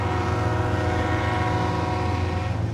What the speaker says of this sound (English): freight trains that come through the rail line